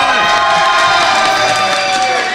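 A live quiz-show audience at a podcast event in Rennes applauds and cheers as a contestant is introduced, with a dense, steady roar of clapping and whoops and some voices mixed in throughout.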